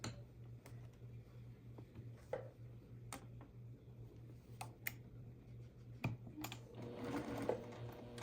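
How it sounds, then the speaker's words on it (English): A sewing machine chain-sews curved quilt block seams, a soft, steady whirring hum with light clicks and ticks as fabric is fed through, fairly quiet and without talk. "And I'll do some chain sewing there."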